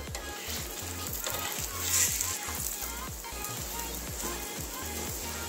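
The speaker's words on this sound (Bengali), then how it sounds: "এবারে পরোটাটা ভেজে নেব।" Cabbage-stuffed paratha sizzles and fries steadily in a hot pan, a dense, close crackle with small bubbling pops throughout and a brief louder flare of hiss near the middle.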